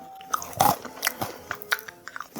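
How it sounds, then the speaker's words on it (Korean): Crunchy bites into a thick, low-sugar Lotte Zero chocolate bar, several sharp close crackles followed by soft chewing, with no talking. "초콜릿도 꽤 두껍고 식감도 바삭바삭하니 괜찮은 것 같습니다"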